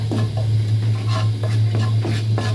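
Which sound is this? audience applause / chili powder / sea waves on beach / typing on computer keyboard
chili powder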